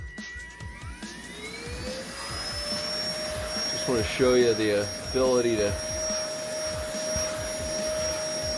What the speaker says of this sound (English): we'll demonstrate the suction power